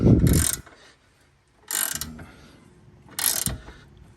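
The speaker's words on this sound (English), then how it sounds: "It helps to have a nice long ratchet." A long ratchet clicks through three separate bursts of turns while loosening a corroded pinch bolt on the front control arm of an Audi B8-platform car. The clicks are close and crisp, and there is no talk.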